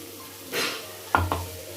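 Spice powder being stirred into a dry radish curry in a pan: a short scraping swish, then two quick clinks of a spoon against the pan, close and alone with no talk.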